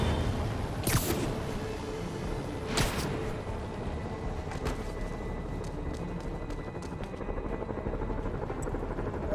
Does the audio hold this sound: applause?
no